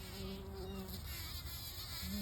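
Steady, close buzzing of a honeybee hovering around flowers, a continuous droning hum with slight shifts in pitch.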